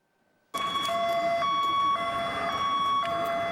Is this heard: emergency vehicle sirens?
yes